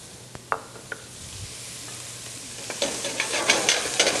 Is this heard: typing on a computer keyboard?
no